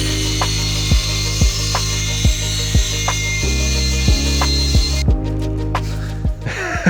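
Power tool enlarging a hole in the floor mount of a BMW E36 race car, a loud motor drone with a regular series of sharp rhythmic knocks about every half second, then a shift in pitch and a final rough burst.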